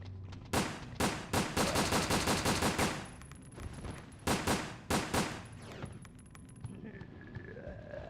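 Gunfire in the video game Resident Evil Dead Aim comes as rapid bursts of repeated shots in two loud clusters, followed by quieter game ambience with a faint tone.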